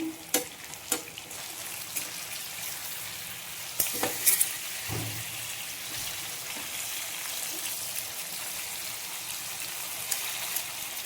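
Food frying in butter on a pan, a soft continuous sizzle with a few sharp clicks and knocks near the start and middle, fairly quiet and with no voices over it.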